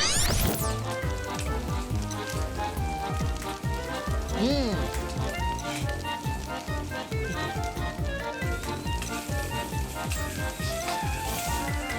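Fish frying in hot oil gives a steady, dense sizzle with crackles and pops throughout, carrying on without pause.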